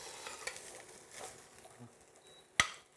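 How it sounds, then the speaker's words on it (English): Onion sautéing in a pan for a carrot apple five-spice soup, a soft continuous sizzle with light stirring scrapes and one sharp utensil clack near the end. "you get an onion sautéing in a pan"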